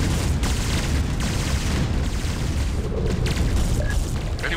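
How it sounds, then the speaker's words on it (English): Missile explosions in the Starsiege video game, a loud continuous rumbling barrage of booms with no talking over it. "Oh no, missiles."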